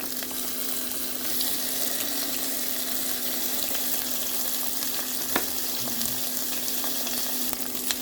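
Chopped onion sizzling in hot olive oil in a cooking pan, a steady crackling fry with faint stirring scrapes and no voices.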